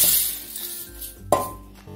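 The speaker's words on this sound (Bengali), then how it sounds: "মুগ ডালটা আমি হালকা করে ভেজে নিলাম। এবার আমি একটা বাটির মধ্যে নামিয়ে নেব।" Lightly fried mung dal is moved into a bowl: a quiet scraping backdrop is broken by one bright clink of utensil against the dish, followed by a softer tap.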